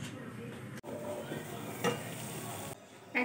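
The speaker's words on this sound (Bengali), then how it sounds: "ভালো করে নাড়াচাড়া করে নিচ্ছি" Salted water for pasta is stirred in a pot on a stove, giving a steady rushing, sizzling wash with a few scraping clinks of the spoon against the pot, close and moderately faint.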